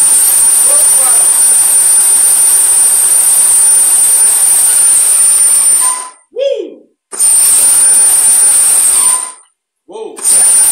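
A Losi DBXL RC truck converted from gas to electric, with a ZTW 620kv motor and HobbyWing EZ-Run Max ESC, revs at stepped throttle with a loud, sustained high-pitched whine that cuts out abruptly twice before spinning back up.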